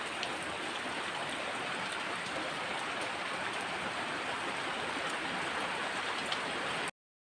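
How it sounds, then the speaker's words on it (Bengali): Steady, heavy downpour fills the air with a continuous hiss of raindrops hitting surfaces nearby, unbroken for several seconds before cutting off abruptly. "আমাদের এখানে কত বৃষ্টি হচ্ছে"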